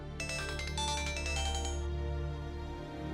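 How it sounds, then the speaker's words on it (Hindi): A bright electronic ringtone plays a quick repeating melody for a couple of seconds, then cuts off, leaving a steady low background hum. "ईमान का फोन।"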